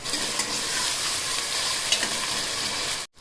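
Five chopped medium tomatoes and a little coriander leaf sizzle and fry in a pan while being stirred, a dense steady crackle with occasional scraping strokes, close and loud, ending in a sudden cut.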